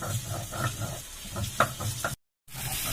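Soft sizzling from a pan of curry being fried down, with a few scraping stirs and a knock, briefly cutting out before the sizzle resumes.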